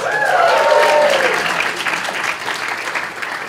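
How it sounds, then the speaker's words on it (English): A hackathon audience at the hackNY Spring 2016 final demos applauds, a loud, dense wash of clapping that peaks early with a few whoops and then thins slightly as it continues. "A huge round of applause."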